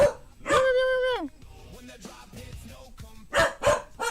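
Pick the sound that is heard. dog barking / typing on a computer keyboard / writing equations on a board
dog barking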